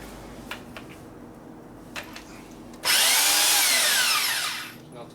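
Drill-driven hone working inside a cylinder of a Chevy LS 5.7L engine block: quiet handling clicks, then a loud, harsh whirring grind that runs about two seconds before spinning down.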